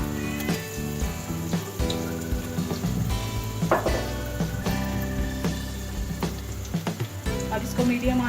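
Chips sizzle in hot oil in a kadhai with a soft, continuous crackle and occasional utensil clinks, partly masked by steady background music.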